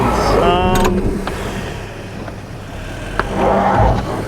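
Kia Sorento X-Line stuck on a snowy hill climb, engine droning steadily while its wheels spin, with a mechanical whir and brief clunks, under people talking.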